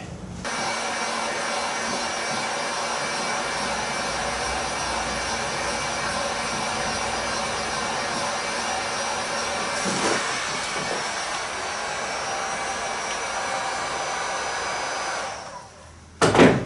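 A heat gun warming a fiberglass-glassed boat hull, a loud steady blowing whir that holds constant for about fifteen seconds before cutting off, followed by a brief clunk.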